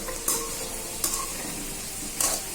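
Elephant foot yam pieces fry over high heat in oil, giving a continuous soft sizzle broken by three sharp clinks of a spoon against the pan, close by with no voices.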